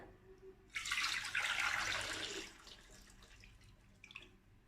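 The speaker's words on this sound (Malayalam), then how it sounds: "സാധാരണ റൂം ടെമ്പറേച്ചറിലുള്ള വെള്ളമാണ് നമ്മൾ ഇതിലേക്ക് ഒഴിച്ചു കൊടുക്കുന്നത്" Room-temperature water is poured into a pot holding eggs, making a soft splash and gurgling stream. It swells briefly, then tapers into quieter trickles and a few drips. The pour is faint and no voices are heard.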